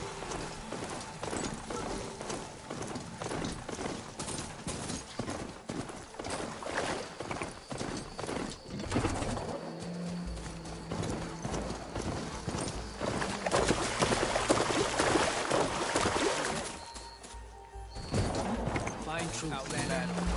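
A machine mount gallops in Horizon Forbidden West, with rapid rhythmic hoof-like clopping under a busy wash of ambience and effects, while a voice speaks over part of the ride.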